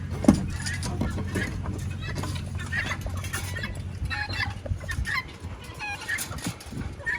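Chickens cluck and a guinea fowl calls on a farm in cold weather, busy overlapping bird calls close by with a steady low rumble underneath and brief bits of voices.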